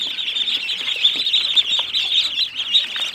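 Ducklings on a duck farm chirping in a steady, high-pitched chorus of overlapping peeps, close by and continuous with no pauses.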